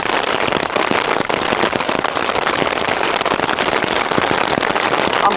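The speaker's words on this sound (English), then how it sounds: "The noise of the hail and rain is so strong." Heavy hail and rain pounding a tarp shelter during a thunderstorm, a dense, loud, unbroken drumming with sharp crackling impacts throughout.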